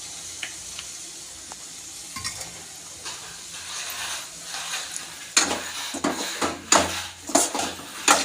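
Conch meat gravy with onion and tomato is stirred in a pan, a quiet simmer first, then repeated loud metallic scrapes and clanks of spoon against pan over a sizzle.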